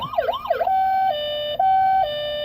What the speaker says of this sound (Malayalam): ഇത് ആംബുലൻസ് സൗണ്ട്